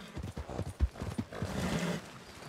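Horse hooves clip-clop in the RedM video game, a run of distinct close hoofbeats with a brief whinny near the end over a low background.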